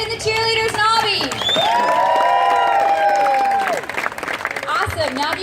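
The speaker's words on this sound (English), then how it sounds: "Let's give one more round of applause for the band and the cheerleaders and Aubie" A large crowd at a university homecoming pep rally applauds, cheers and whoops, with loud sustained shouting and voices over the clapping, filling the space with dense noise throughout.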